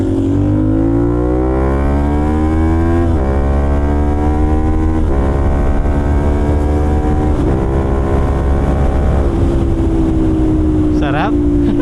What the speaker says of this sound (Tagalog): Enjoyin po natin yung tunog ni 450 NK na naka-exhaust